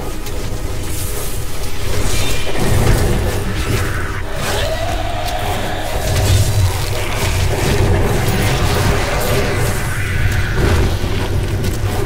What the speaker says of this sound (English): Good old explosions.